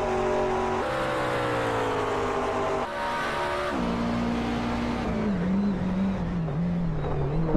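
McLaren GT race cars in a sim racing league event at VIR, engines droning loud and steady with gear-shift pitch drops and a rising whine as the cars run close together.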